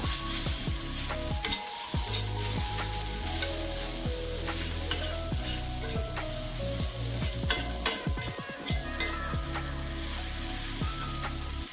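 Tomatoes sautéing in a pan for homemade kothu parotta, a steady loud sizzle broken by repeated scraping stirs of a spatula, with no talking.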